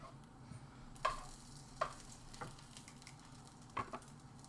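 Eggs frying in oil in a pan give a faint, soft sizzle, broken by a few quiet ticks and pops spaced unevenly.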